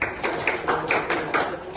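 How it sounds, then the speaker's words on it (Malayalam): A small group clapping in quick, even bursts at an NSS school camp, the claps close and crisp, with no talking over them. "ഒരു ക്ലാപ്പ് കൊടുക്കും."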